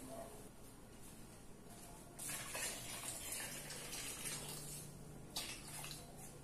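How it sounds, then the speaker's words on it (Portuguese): Boiling water is poured from one pot into a cooking pot, a steady splashing gush that grows louder partway through and continues to the end, heard alone without talk. "vou passar essa água que tá fervendo pra ela"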